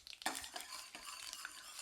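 Mustard seeds, urad dal and chana dal fry in hot oil in a pan for potato poori masala with capsicum, giving a steady close crackling sizzle with a few sharp pops and a stirring scrape, no voices.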